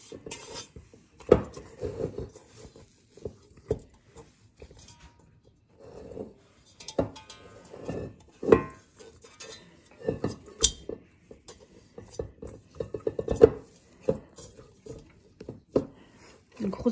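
Dough being scraped and gathered from a food processor bowl for Christmas bredala biscuits: scattered scraping, rubbing and light knocks of utensil on bowl, with intermittent speech over the handling.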